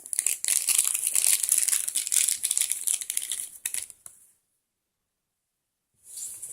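Paper packing stuffed inside an Angry Birds Star Wars blind bag figurine crinkles and rustles loudly and continuously up close for about four seconds, then falls silent before a brief burst of crinkling resumes.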